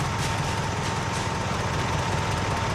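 Generator engine in Project Zomboid running steadily at a starter home, a continuous, even mechanical drone with low rumble and no change in pace, alone and unbroken throughout.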